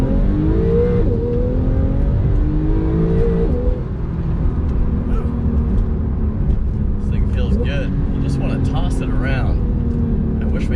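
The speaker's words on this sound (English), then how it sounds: "you still want to rev it out" A Porsche 991.2 Carrera turbo engine revs steadily, its pitch sweeping up through the gears, loud and close, with brief talking mixed in.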